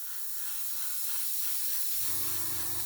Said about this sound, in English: Spray some of this on here.